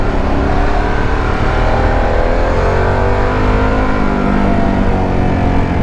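A 2021 Harley-Davidson Pan America motorcycle in sports mode pulls hard under acceleration, its loud, steady engine note rising continuously in pitch with no pause and no talking.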